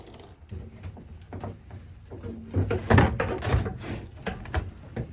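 A fitting is screwed by hand onto a camper's faucet water pump, producing close, irregular plastic clicks, scrapes and ratcheting handling sounds that grow busier and louder midway.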